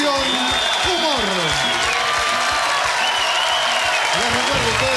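A studio audience at a Mexican comedy show applauds and cheers loudly and continuously while a host's voice and whistles carry over the noise.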